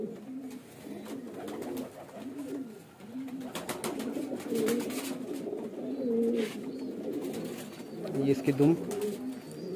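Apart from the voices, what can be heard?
large pigeon cooing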